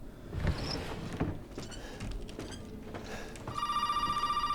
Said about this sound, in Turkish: Telefon var.